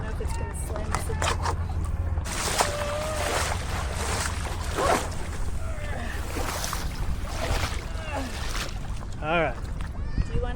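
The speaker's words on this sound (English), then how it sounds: "There is a boat coming" A motorboat approaches across Newport Harbor, heard from a small paddled craft as a low engine rumble under water sloshing, wind and people talking nearby.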